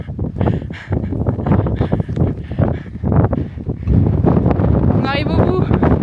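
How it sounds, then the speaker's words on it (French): Low, rumbling wind buffets a microphone steadily throughout on a volcanic hike in the Chaîne des Puys, France, with people talking over the muffled roar. "Il y a du vent, Anaïs?"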